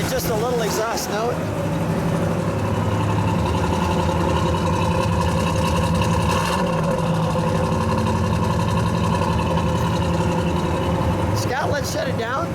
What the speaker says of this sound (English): Just a little exhaust note.